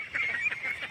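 A flock of ducks climbs out of canal water onto the bank in the Brahmaputra valley, giving loud, overlapping nasal honking calls that repeat steadily throughout, with no talking.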